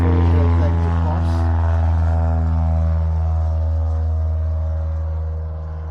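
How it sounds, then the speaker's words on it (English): An airplane drones loudly overhead, a steady low engine hum with strong harmonic tones that slowly fades as it passes, heard alone without talk. "Just wait for the airplane to pass."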